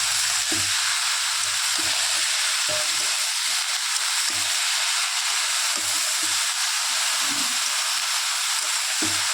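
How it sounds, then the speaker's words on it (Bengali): Chopped bottle gourd and shrimp sizzle loudly in a pan with steady frying hiss, punctuated by soft scraping knocks as a utensil stirs them. "নেড়ে চেড়ে নিই।"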